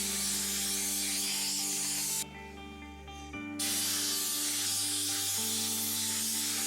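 Compressed air blowing particulates out of the wedge block channel of a plastic-liner wedge welder, a loud steady broadband hiss lasting a few seconds with a short pause midway, over a constant low machine hum.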